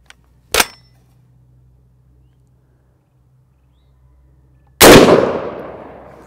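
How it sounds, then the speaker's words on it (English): Two sharp, loud .450 Bushmaster rifle shots with 250-grain FTX rounds from an 18-inch barrel, fired at body armor. A short crack comes first, then a heavier blast with a long decaying tail over a low hum. "250 grain FTX rounds, and they are screaming out of this 18-inch barrel"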